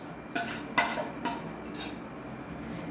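Potato mixture being mixed in a steel plate, producing four or five light scraping and clinking taps at irregular intervals, close and quiet over a soft background hum.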